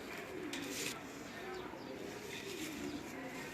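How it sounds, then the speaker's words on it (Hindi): A Fakir Gul pigeon at a pigeon club in Gujranwala gives low, soft coos over a constant hiss of background noise. "ये हर तरीके से फ़कीर गुल कबूतर है।"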